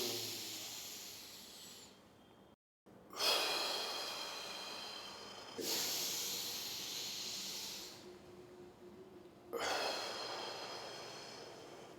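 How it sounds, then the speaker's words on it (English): Three long, deep breaths in through the nose, each a broad, airy rush lasting a few seconds and separated by short gaps, close and fairly loud, during a breathing demonstration of maximal inhalation. "So I'm breathing to the maximum."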